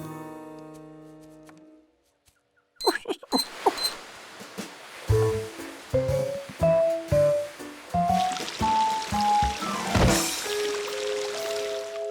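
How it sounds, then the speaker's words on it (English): Cartoon water floods a house, coming in as a burst of splashing and squishing after a brief quiet start, with sloshing pulses and bright bubbly plinks that carry on to the end. "Water!"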